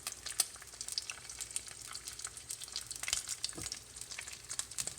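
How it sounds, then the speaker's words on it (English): Eggs over medium and bacon frying in a pan at a steady, controlled temperature, giving a continuous close crackling sizzle with scattered sharper pops and no talking. "the egg is cooking quickly, but not so high that it's going to burn right away"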